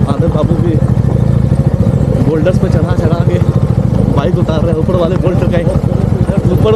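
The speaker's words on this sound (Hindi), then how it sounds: "बोल्डर्स पे चढ़ा के बाइक उतार रहे हैं" A motorbike's engine chugs and clatters steadily up close while being ridden down over boulders on a mountain trail near Nagarkot, Nepal, with people talking over it.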